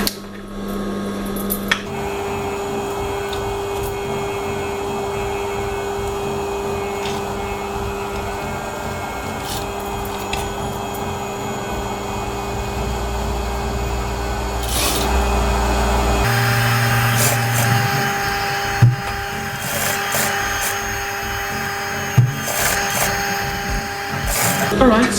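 Sewing machine running a rolled hem around a shawl neckline, a steady mechanical whir and hum that carries on for a long stretch, shifting pitch partway through, with a few sharp clicks and knocks and a person talking over it.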